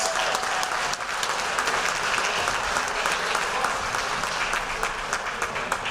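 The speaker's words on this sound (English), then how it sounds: "Let's give a round of applause to all of our" A banquet hall audience applauds scholar athletes at a fall athletic banquet, with steady, dense clapping filling the whole stretch at an even level and no talk over it.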